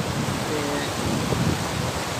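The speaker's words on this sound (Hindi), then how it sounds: "पानी की आवाज़ इस तरह जैसे शेर जोड़ा किसी चीज़ पर हमला कर रहा होंगे" Rushing water roars in a steady, dense wash of noise, loud and unbroken throughout with no clear pauses.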